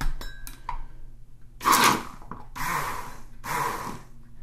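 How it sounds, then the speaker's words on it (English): An immersion blender whirs through a cocoa butter body meringue mixture in two or three short, loud bursts with brief pauses between them, close to the microphone. "we'll grab our immersion blender and give this a couple quick blasts to get"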